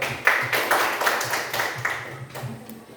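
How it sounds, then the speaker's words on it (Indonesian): Classroom students clap for a classmate named Mario, a short, moderately loud burst of uneven applause with a low hum underneath. "Tepuk tangan buat Mario."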